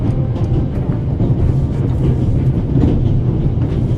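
A train rides on rails in the video game The Raven Remastered, giving a steady, loud rumbling roll with faint clickety-clack running continuously and alone.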